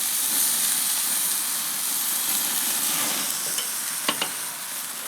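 A thick one-bone prime rib searing over a hot grill, giving a loud, continuous close-up sizzle and hiss that eases slightly near the end, with a couple of faint clicks and no talking.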